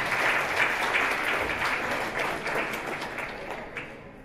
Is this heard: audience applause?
yes